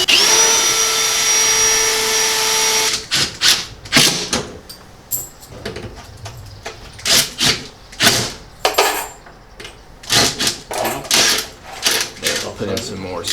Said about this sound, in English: put in some more screws to the studs in there.